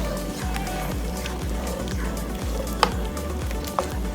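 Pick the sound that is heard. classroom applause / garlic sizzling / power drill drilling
garlic sizzling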